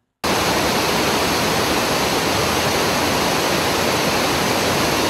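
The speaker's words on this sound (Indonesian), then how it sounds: "Air terjun Havasu." Havasu waterfall in the Grand Canyon, Arizona, a steady dense roar of rushing water, loud and unbroken throughout.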